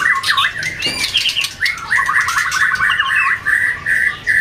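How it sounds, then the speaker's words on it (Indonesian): A magpie robin sings close by, a rapid series of bright, varied whistles and chattering phrases, with a short squawk partway through. "ini Murai Medan"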